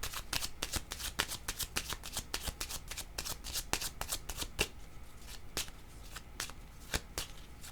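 A deck of playing cards is shuffled close by. Crisp riffling and snapping flutters come repeatedly in quick bursts, with a quiet room behind and no talking.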